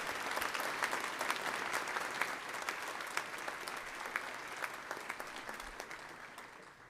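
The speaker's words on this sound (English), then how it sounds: "Please join me in a round of applause" Graduation ceremony audience applauds steadily, a broad wash of many hands clapping at moderate distance, even and continuous with no talk over it.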